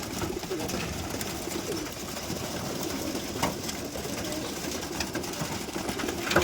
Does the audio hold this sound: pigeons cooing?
yes